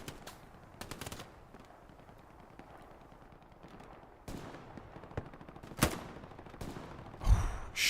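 Scattered gunfire in an 18v18 Battle of the Bulge video game match at Elsenborn Ridge, with irregular single shots and short bursts at mid distance, a louder close shot near the end.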